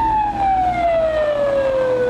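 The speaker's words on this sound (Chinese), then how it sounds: "警笛声大作，为民众开道" A police car's siren wails while clearing a road to escort a grandfather's car to the hospital, one long loud tone sliding slowly downward, close and steady over the engine hum.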